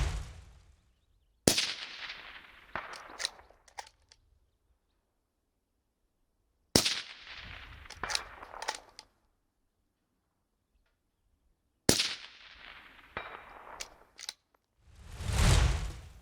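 A 22 ARC rifle fires at rock chuck steel targets 335 yards away on a ridgeline range; three sharp, loud shots at even intervals, each trailed by echoing rolls and faint distant clicks, with a brief rushing noise near the end.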